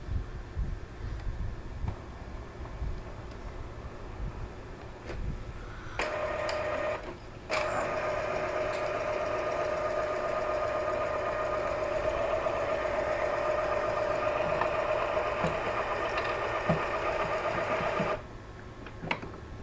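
An Epson L3110 printer runs a power cleaning cycle, its steady mechanical whir and hum starting after a few seconds and continuing for about ten seconds before stopping, close by with no talking.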